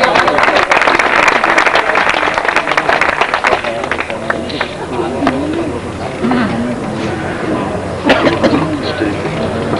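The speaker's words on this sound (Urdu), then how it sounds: "تالیاں بھی" Audience applause at a prize ceremony, a dense burst of clapping that gradually thins out while people talk and murmur over it.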